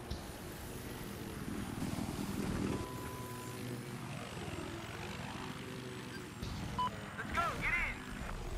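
A scout helicopter in the Battlefield 4 video game drones steadily at moderate level throughout, with engine and rotor noise under a player's voice.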